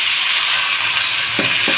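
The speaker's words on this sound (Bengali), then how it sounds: "দেখো আলুগুলো আমার লাল লাল করে ভাজা হয়ে গেছে এর মধ্যে আমি মোচাগুলো সব দিয়ে দেবো" Banana flower goes into a pan of potatoes already fried red in oil with turmeric, producing a loud, dense, continuous sizzle close up, with two quick stirring scrapes near the end.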